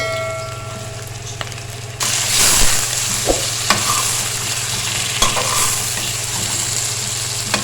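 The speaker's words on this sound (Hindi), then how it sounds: "और साथ ही इसमें डाल देंगे चिकन जिसको हमने नमक लगा के रखा है, ताकि वो भी लहसुन के साथ ही फ्राई हो जाए।" Salted chicken pieces hit a pan of frying garlic and a loud, close sizzle bursts up. The hiss holds steady with occasional stirring clicks, over a low background hum.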